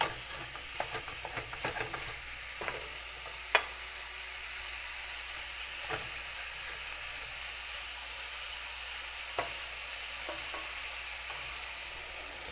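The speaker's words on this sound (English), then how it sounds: "Now I'm gonna throw the ground turkey and start breaking them up in little pieces." Ground turkey frying in a pan over medium-high heat, a steady soft sizzle and hiss, with scattered light scrapes and taps as a utensil breaks the meat into small pieces.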